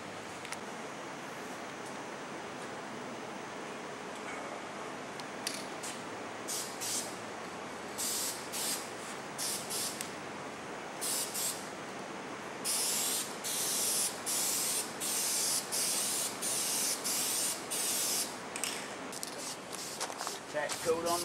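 A spray gun lays a tack coat of paint in a series of loud, hissing bursts, short at first and then longer and more continuous, over a steady background hiss.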